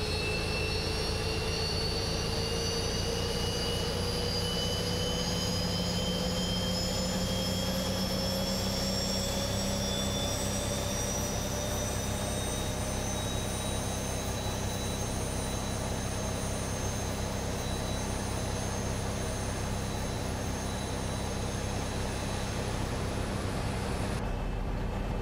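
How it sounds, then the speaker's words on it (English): The right jet engine of a Boeing 737-800 in the X-Plane 11 flight simulator spools up with a rising whine and a steady low rumble beneath it, climbing in pitch over the whole stretch and then settling, with no speech. "the right engine has started"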